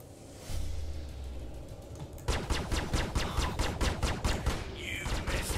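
Spaceship weapons firing in Star Citizen, a Sabre fighter with guns and missiles: a whoosh, then a rapid, regular burst of loud gunfire shots that continues to the end.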